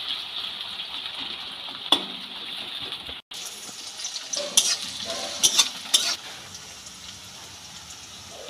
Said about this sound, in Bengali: কাঁচা লঙ্কা পেঁয়াজ আর রসুনটাকে ভালো করে একটু লাল লাল করে ভেজে নেব।